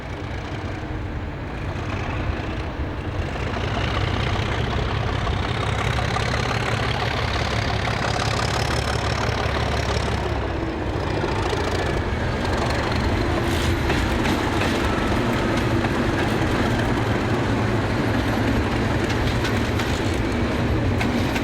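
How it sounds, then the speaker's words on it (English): A Class 37 diesel locomotive hauls empty carriage stock toward the carriage sidings at Cardiff, its engine rumbling steadily and loud and close throughout, with rail clatter and squealing wheels as it passes. "At Cardiff, 405 moves empty stock to the carriage sidings."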